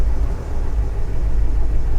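Ford F450 with a 7.3L engine idling rough just after a cold start, a loud steady low rumble with slight unevenness, close by.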